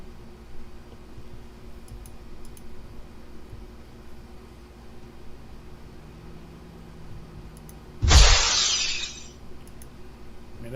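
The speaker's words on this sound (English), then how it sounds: "Breaking glass sound effects." A single burst of breaking glass bursts out loudly near the end, with bright shattering debris trailing off over about a second after a long, quiet stretch of low background noise.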